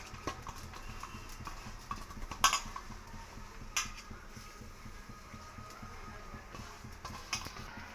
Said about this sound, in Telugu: ఇది ఆకు మెత్తపడేంత వరకు ఇలాగ కలుపుతూ ఉండాలి